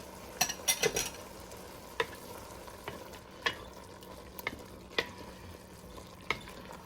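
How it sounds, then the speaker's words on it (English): Crushed tomatoes being stirred in a pot for Creole jambalaya: a spoon scrapes and clacks against the pot in scattered taps over a faint steady sizzle, fairly close and quiet, with no talking. "we're going to stir this around until it warms up"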